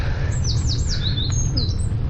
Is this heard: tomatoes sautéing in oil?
no